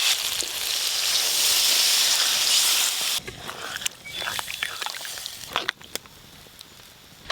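Water hits a hot pan of sizzling capsicum and spice mix with a loud, steady hiss that cuts off abruptly, followed by quieter bubbling, scattered clinks and stirring noises.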